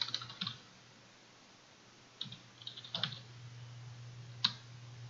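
Short clusters of quiet keystrokes on a computer keyboard, a few taps at a time with pauses between, over a steady low electrical hum.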